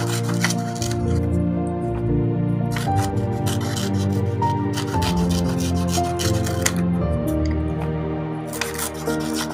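Stacked paper circles for a handmade paper flower are pulled apart, giving a steady close rubbing and rasping that runs throughout over a faint sustained tonal background.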